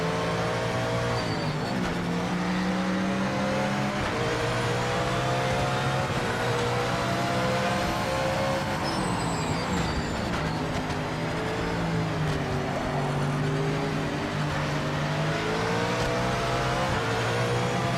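A race car engine in the Project Motor Racing sim game roars continuously and loudly, its pitch rising and falling with throttle and gear changes throughout, with no talking.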